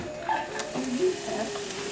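Chopped onion and celery frying in melted butter in a pan, a soft steady sizzle with occasional stirring scrapes, faint and close, no talking.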